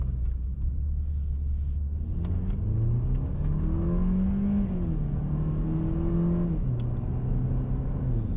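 A 2019 Ford Fiesta accelerates hard, its engine note climbing steadily through a gear change and rising again, loud and close with a constant rumble and no talk.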